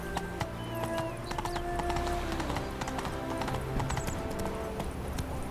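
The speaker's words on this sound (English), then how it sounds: "Whoa there, Roach." Horse hooves clip-clop in The Witcher 3, a dense run of rapid hoof strikes, close and continuous, with a short whinny and light ambient game sounds beneath.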